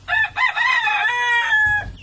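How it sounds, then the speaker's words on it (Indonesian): A rooster crows once, a long loud cock-a-doodle-doo close by, rising then holding a strained tone before trailing off, with a faint rustle at the end. "Sepertinya sayup-sayup aku mendengar ada ayam keluruk Bram."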